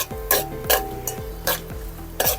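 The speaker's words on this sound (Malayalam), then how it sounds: "നല്ലപോലെ ഒന്ന് ഇളക്കി മൂത്ത് വരുന്നവരെ ഇളക്കണം നമ്മൾ" Mutton with coconut pieces is stirred in a hot pan, giving a series of sharp scraping strokes about every half second over a soft, steady sizzle.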